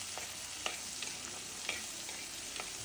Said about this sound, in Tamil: இது 2யும் சேர்த்து நல்லா வதக்கி விடுங்க.